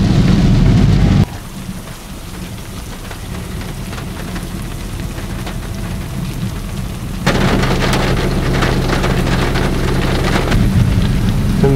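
Steady heavy rain pours through a Kerala forest, with deep rolling thunder rumbling beneath it; the downpour thins briefly, then swells louder again toward the end, with no voices.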